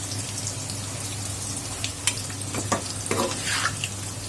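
Fried pointed gourd goes into a pan of simmering tomato sauce: a constant bubbling sizzle over a low kitchen hum, with scattered crackles and a few soft stirring knocks close by.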